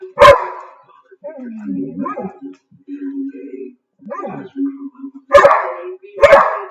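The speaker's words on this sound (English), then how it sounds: "Okay, no barking, Papa." A dog barks in sharp, loud bursts near the start and twice near the end, with whimpering and yips between them while a person speaks to it.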